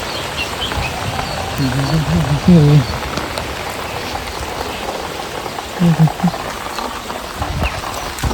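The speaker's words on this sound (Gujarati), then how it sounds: "ફૂલ વરસાદ આવી ગયો" Heavy rain pours over a village, a steady broadband hiss lasting throughout, with brief voices rising above it now and then.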